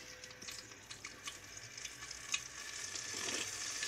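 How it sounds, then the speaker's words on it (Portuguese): Bread dipped in egg fries in hot oil with a faint, steady sizzle and crackle throughout, heard close and alone. "E vai levar para fritar que o meu óleo já tá quente"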